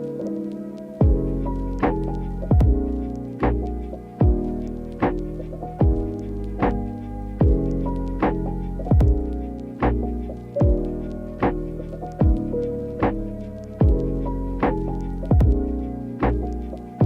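Sewing machine top stitching the pockets of elastic shorts, a steady run of evenly spaced thumping needle strokes close by, about one per second, repeating throughout with no talk.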